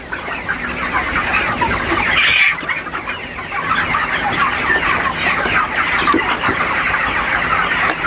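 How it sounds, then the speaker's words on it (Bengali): Dense flock of broiler chickens clucking loudly all at once as fermented maize feed is put out at a farm. The overlapping clucks run steadily from start to finish with no break. "সব মুরগিগুলো সেন্ট পাওয়ার সাথে সাথে কিভাবে এসে গেছে মুরগিগুলা"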